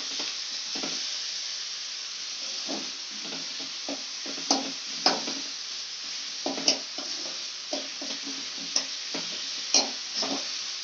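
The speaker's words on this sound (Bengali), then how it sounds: "এবার মশলাটাকে ভালো করে কষে নিতে হবে" Spice paste with tomatoes fries and gets stirred in a pan, a steady soft sizzle under repeated scraping strokes and occasional sharper clicks of the spatula, close and without voices.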